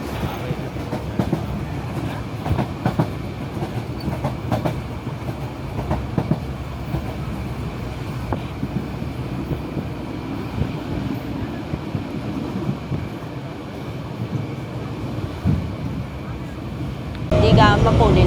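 Myanmar Railways Yangon–Mandalay train heard from on board: a steady rumble of the running carriages with rattles and clicks throughout, voices murmuring underneath and a louder burst of noise near the end.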